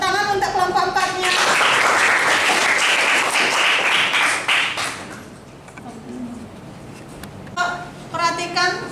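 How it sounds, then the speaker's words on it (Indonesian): A classroom of students claps for a group after its geometry design presentation, a burst of applause lasting about four seconds, with a teacher's voice speaking just before and after. "Tepuk tangan untuk kelompok 4-nya."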